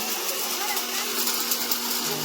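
An electric mixer-grinder whirs continuously while blending cashews, almonds and sugar for a sweet offering, its steady motor drone running under a person talking nearby.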